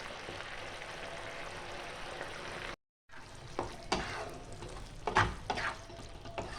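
Mushrooms frying in a pan over a medium-low flame for a Bengali-style mushroom chilli, giving a steady close sizzle with a few stirring scrapes and a brief silent gap partway through.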